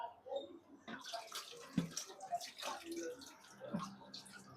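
Faint running water from a household tap splashes over something being washed, steady and quiet beneath nearby conversation.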